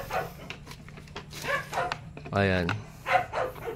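A dog gives a few short yips and barks, one a longer whimpering bark, nearby and intermittent, with someone talking in between.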